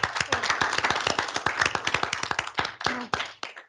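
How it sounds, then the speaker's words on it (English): A small group clapping at a technical college board meeting to honor retirees, distinct individual claps close by in a quick, uneven rhythm that thins out and stops near the end. "thank you with a round of applause"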